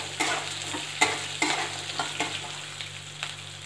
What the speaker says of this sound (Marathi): फ्रेश मटारचे दाणे घेतले थोडे ते घालूया मटारला पण तेलामध्ये छान गरम करून घ्यायचे आहे